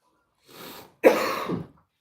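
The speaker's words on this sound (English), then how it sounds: "Really sorry for this coughing and the coming coughing." Two close coughs, a softer one followed by a harsher, louder one, alone against silence.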